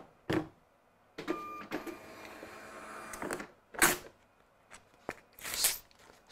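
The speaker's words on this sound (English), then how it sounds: "let's also print the barcode label instead of damaged one" A label printer runs while printing a new barcode label, giving a few seconds of whirring feed noise between clicks and handling sounds, fairly quiet and close, with no talking.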